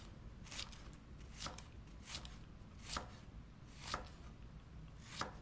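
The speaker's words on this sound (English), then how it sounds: "then I'll chop it, cut it in half" A knife chopping yucca on a cutting board, six or so evenly spaced crisp strokes with short pauses between them, close and fairly quiet, with no voices.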